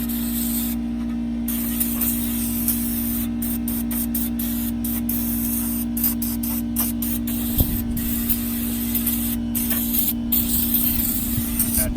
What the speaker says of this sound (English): I'm going to just hit it with some of this brake clean here